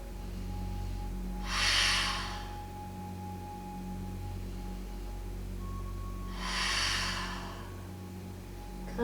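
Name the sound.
yoga breathing, two breaths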